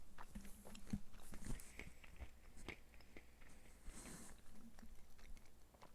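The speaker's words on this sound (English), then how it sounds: "I'm sorry for the chewing." Close-up chewing and biting of food near the microphone, with crunchy, irregular bites over a quiet background, while a Chrono Cross game plays on.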